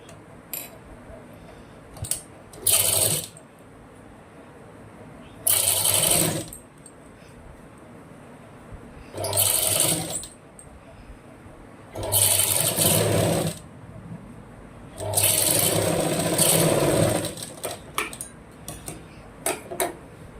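A sewing machine stitches a blouse in five or six loud, close bursts of rapid mechanical whirring, each lasting one to two seconds, separated by quieter pauses with small handling clicks.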